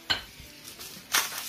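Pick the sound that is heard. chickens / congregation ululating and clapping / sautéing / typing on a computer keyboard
sautéing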